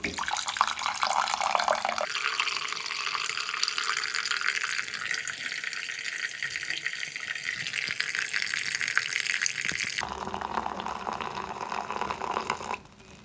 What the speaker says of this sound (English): almost all the water has drained